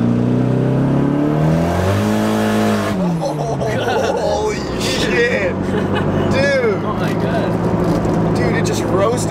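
Pink Nissan S14 drift car with an SR20 engine swap roasting its rear tires, loud revving engine rising and falling with tire squeal and crowd babble, steady and close throughout.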